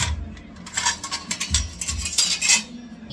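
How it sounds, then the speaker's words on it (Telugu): Steel and plastic plates are handled close by, with repeated clinks, clatters and scrapes in an irregular rhythm and no talking. "మెనల్ ప్లేట్స్ తీసుకోవాలంటే ఇలాంటి ప్లాస్టిక్ ప్లేట్ కానీ"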